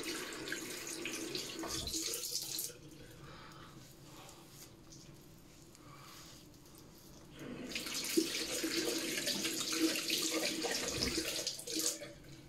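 Running water pours from a tap for a rinse, a steady hiss that drops away for several seconds and then returns louder and fuller, with small clatters in between.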